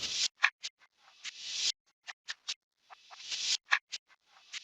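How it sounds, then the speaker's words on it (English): A layered hip-hop drum loop plays as sharp, bright hits and hi-hat-like ticks in a tight repeating pattern, moderately loud and alone, with no talking. "So this is the final drum loop."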